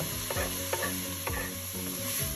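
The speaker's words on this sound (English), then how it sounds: "I like to fry my carrots a bit because I like them a bit softer" Finely chopped carrots frying in a pan for a pasta sauce, a loud steady sizzle broken by several scraping stirs of a utensil against the pan, close up and without talk.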